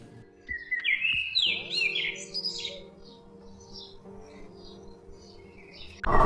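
Cartoon birds chirping and tweeting in a lush jungle after rain, bright quick calls over soft ambient background music, fairly close and clear.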